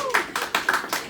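A talk show studio audience claps and cheers in a few quick separate bursts of hand claps, close and fairly loud, with a voice briefly audible at the start.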